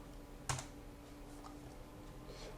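Keystrokes on a computer keyboard, a single sharp clack followed by a few faint taps, quiet and close over steady room hum, with no talking.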